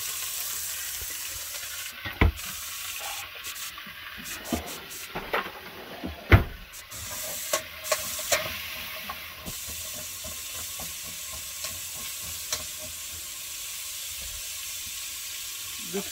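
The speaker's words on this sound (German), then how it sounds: "Wird kurz angebraten." Vegetables sear in a pan inside a camper van, a steady sizzle and hiss broken by utensil scrapes and clacks as they are stirred, close by and with no talking.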